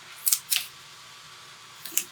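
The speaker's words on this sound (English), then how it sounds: "I use non-stick scissors to help me out." Non-stick scissors snip foam tape several times up close: two quick cuts, a pause, then two more crisp snips in a quiet room.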